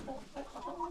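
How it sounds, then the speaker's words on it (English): Layer hens and cocks on a poultry farm cluck and call softly, several birds overlapping in a steady low murmur with no talk. "These are now the hens, the cocks are here, the hens are here."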